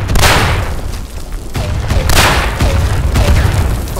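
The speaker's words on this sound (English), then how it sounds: "Fucking mortaring their own guys." Mortar shells land in the World War I shooter Verdun, several loud booming blasts in quick succession with chaotic battlefield gunfire and noise between them.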